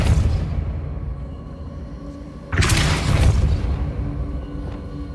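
A Depulso spell cast in Hogwarts Legacy, heard as a sudden booming burst midway that rumbles on for a couple of seconds over a low game ambience; no speech.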